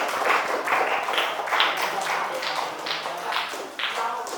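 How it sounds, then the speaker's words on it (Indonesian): A classroom group claps for a team of students, a light patter of rhythmic hand claps at moderate distance with a murmur of voices underneath. "beri tepuk tangan untuk kelompok 1 ya"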